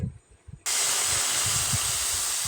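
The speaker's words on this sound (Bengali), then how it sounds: "কড়াইয়ে আমি গুড় দিয়ে দিলাম আর সমান পরিমাণে একটু জল ব্যবহার করতে হবে" Jaggery and an equal amount of water hitting a hot kadai, a sudden loud, steady sizzling hiss that starts after a short quiet moment and holds without letting up, with no talking.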